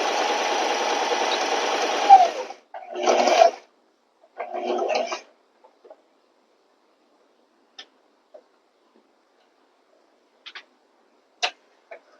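A sewing machine with a twin needle stitches a polyester rayon blend with a little stretch. One longer run is followed by two short bursts, then near silence broken by a few faint clicks.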